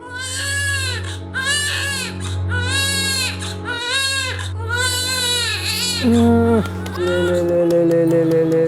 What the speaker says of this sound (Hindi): साहब, रात को 2 बजे हमारा बच्चा रोया था।